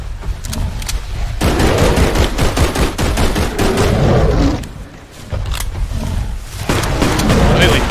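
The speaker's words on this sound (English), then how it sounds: "Shoot him, Tyler!" Rapid gunfire in the video game BigFoot 4.1, loud bursts of rifle shots crackling in quick succession with short gaps, players shouting over the shooting.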